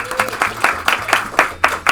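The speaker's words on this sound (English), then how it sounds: "Another round of applause for Hojo and Heather." A live podcast audience at a Disneyland-themed bonus episode gives Hojo and Heather a brief burst of clapping, loud and close, with separate claps landing in a loose rhythm over a low background hum.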